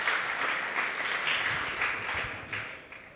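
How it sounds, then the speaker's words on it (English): Sustained applause from a conference audience, a steady wash of many hands clapping that gradually fades toward the end. "I'll invite you to give us a round of applause for that"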